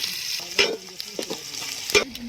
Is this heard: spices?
yes